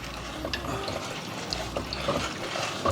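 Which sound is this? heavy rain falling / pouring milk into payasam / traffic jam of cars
pouring milk into payasam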